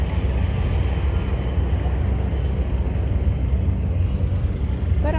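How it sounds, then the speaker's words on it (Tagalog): A helicopter passes over Victoria Harbour in Hong Kong, a steady loud rumbling drone with broadband noise that runs without a break, and no clear voices on top. "Parang andun pa helicopter, naririnig ko pa."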